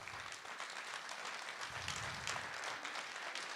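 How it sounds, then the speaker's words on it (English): Faint, distant audience applause for organizers at the Landscape Heroes conference, a dense patter of many hands clapping steadily for a few seconds. "let's give the organizers a round of applause"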